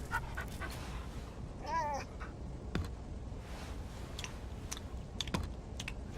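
A dog panting in the video game AR-K, soft rapid breaths mixed with keyboard clicks and light tapping, with a brief whine-like tone midway and a voice talking quietly.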